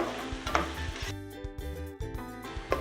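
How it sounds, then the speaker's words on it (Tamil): Onion, garlic and green chili sizzle in hot oil over full flame while okra masala is being made, with steady frying hiss and a few scraping stirs of a spoon against the pan, close and continuous. "இப்போ இந்த வெங்காயம், பூண்டு, பச்சை மிளகாய் ஃபுல் ஃப்ளேமில் வச்சுருங்க"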